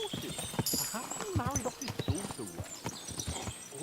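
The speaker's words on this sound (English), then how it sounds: "That has a lot of horses." Many hooves clip-clop in quick overlapping steps, close and busy, with a faint whinny amid the trotting of horses at a castle in the video game Kingdom Come: Deliverance 2.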